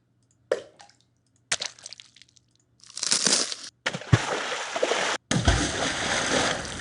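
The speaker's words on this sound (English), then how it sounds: "There's the splash" A water throw splash effect: short scattered drips and squishes, then a longer rushing splash and a final big, heavy splash that sprays and trails off, loud and close with brief silent gaps between hits.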